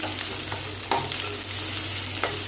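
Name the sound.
onion and green chilli sautéing in pan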